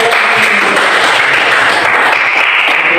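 Steady, loud applause from a class filling the room, continuous clapping from many hands without a break.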